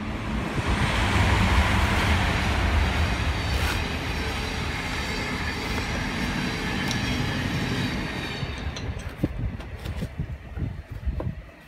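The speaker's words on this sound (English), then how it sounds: "As per usual, ignore all the trains." A train passing close by a workshop, a loud sustained roar and rumble of rail cars with rhythmic clatter of wheels that gradually fades into scattered clanks and knocks near the end.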